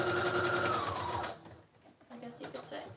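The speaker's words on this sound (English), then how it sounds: "I like to sew around the whole border of these because I think it kind of gives it a finished look." A sewing machine stitches around the border of junk journal pages, running in a steady, close whirr for just over a second before stopping, then followed by quieter handling noises.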